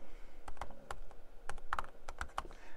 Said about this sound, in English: I can type in butterfly search.